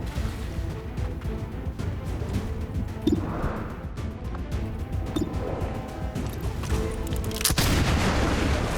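A sniper rifle shot in the turn-based tactics video game XCOM 2 sounds as a sharp crack near the three-second mark. Further bangs and a heavy crash follow over a low rumbling backdrop.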